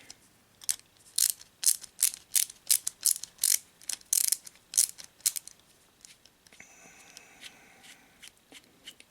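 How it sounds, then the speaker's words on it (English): Small screws being backed out of a plastic Transformers Generations Deluxe Nightbeat figure, giving a run of quick, close ratcheting clicks in bursts, then a quieter stretch of faint handling. "And then you just take off these two screws right here."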